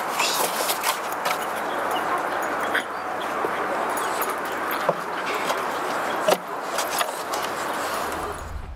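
Five dogs playing nearby, with scattered yips, whimpers and scuffling over a steady background, a few sharper clatters standing out.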